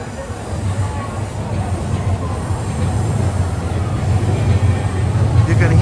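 Train rumbling across elevated tracks overhead in Tokyo at night, a steady low roar and rattle that grows heavier over several seconds, heard from the street beneath.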